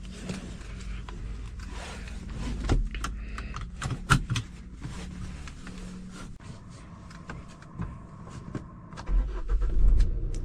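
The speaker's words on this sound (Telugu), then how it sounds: "సో ఇది వచ్చేసి డీజిల్ ఇంజన్." A 2023 Tata Altroz XZ diesel with a 1.5-litre engine and manual gearbox starts and idles, heard from inside the car as a low steady rumble with scattered clicks and small bumps, swelling slightly near the end.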